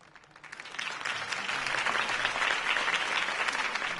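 Crowd applause at a Batman video game campaign rally swells from a quiet start into steady, dense clapping that holds loud and continuous throughout.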